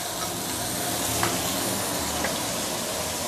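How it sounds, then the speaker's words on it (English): Stuffed sambal fish pan-frying over medium to medium-low heat, a steady, close sizzle and hiss of hot oil throughout, with a couple of faint pops. "medium to medium low heat to slowly pan fry"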